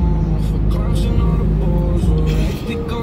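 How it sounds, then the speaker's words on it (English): A big red truck passes nearby on the road, its low engine rumble loud and steady for a few seconds before shifting as it goes by. "It's a big red truck."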